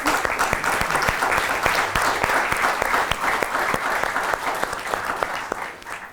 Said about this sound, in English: I think we need to give them a hand of applause.